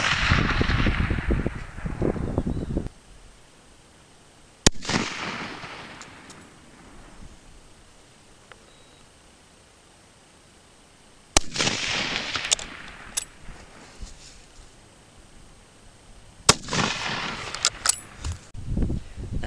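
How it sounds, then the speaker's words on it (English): Rifle shots from a ladder test loaded with H380 powder, several sharp loud cracks spaced seconds apart outdoors, each followed by wind noise and handling rustle. "Got a ladder test loaded up, 10 shots with powder H380."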